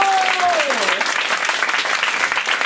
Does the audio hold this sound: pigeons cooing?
no